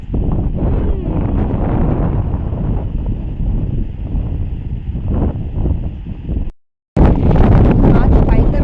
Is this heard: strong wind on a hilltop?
yes